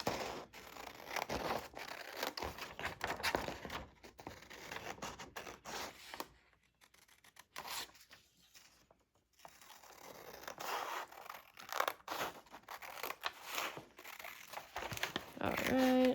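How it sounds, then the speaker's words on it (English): Scissors snip and crinkle through a brown paper lunch bag in repeated cuts, with rustling handling noise and brief pauses between bursts. "Let's trim with scissors first, and I'm gonna trim again a little bit on the inside."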